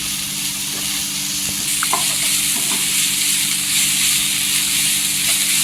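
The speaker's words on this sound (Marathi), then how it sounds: "इथे हे सुके मसाला आहे ते तेलावर परतून घ्यायचं" Dry spice masala roasts in hot oil for a Maharashtrian dried-fish dish, giving a loud, even frying hiss with a few faint stirring clicks.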